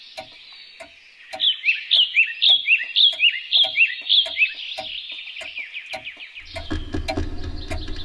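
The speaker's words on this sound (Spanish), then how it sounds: "Como mola el sonido de los pájaros." A bird in Layers of Fear: Inheritance chirps loudly in a quick repeating trill of bright tweets over faint ticking, then the song fades as a low rumbling ambience rises.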